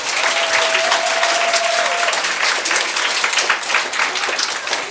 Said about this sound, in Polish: trzeba jeszcze duże brawa dla wszystkich dzieciaczków